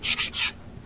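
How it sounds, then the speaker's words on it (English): A sanding pad is rubbed over rough aniline leather in three quick back-and-forth strokes, a close, soft, breathy scuffing that then goes quiet. "I have also the sanding pad here. If you have some rough areas, you can also sand down"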